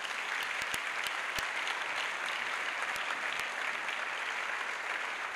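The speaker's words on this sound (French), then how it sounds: "Acclamation. A clap." An audience at an evangelisation crusade claps in a dense, steady applause that fills the whole stretch, with a few sharper claps standing out and no speech.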